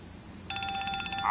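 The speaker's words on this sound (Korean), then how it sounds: "전화!" A telephone bell rings in a dramatized comedy scene, a bright electronic trill starting partway through and repeating in quick pulses, fairly loud over a low background hum with no one speaking.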